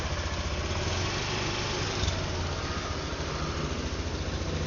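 A new motorbike idles nearby with a constant low rumbling drone that holds steady throughout, and no one speaks over it.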